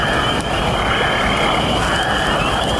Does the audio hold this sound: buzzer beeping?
no